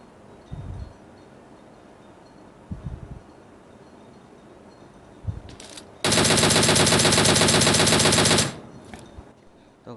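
Gunfire in a battle royale video game: a few scattered single shots, then a sustained loud automatic burst lasting about two seconds, close and with no talking.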